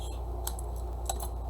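Scissors trim down the edge of a paper-craft piece in a few quiet snips, with two sharp cuts standing out over a low steady hum.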